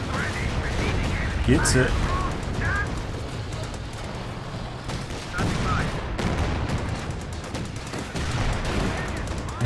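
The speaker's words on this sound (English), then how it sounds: "he's actually using the HE shell barrage there" HE shell artillery barrage in Company of Heroes 2 makes continuous rumbling blasts and crackling gunfire that pile up into a dense, loud wash beneath ongoing commentary.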